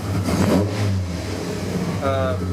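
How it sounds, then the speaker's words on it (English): A VW Rabbit GTI 16V with an ABA engine revs as the throttle is flipped, a mid-pitched engine surging and dropping back, then a rising whine near the end, close and loud. "So very stable air-fuel ratio when I'm flipping the throttle."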